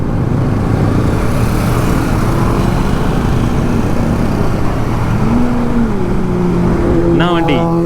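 A Kawasaki Z900 motorcycle with a loud exhaust on a coastal highway ride: a constant, loud engine roar mixed with road and wind noise, and a rising, revving tone swelling near the end.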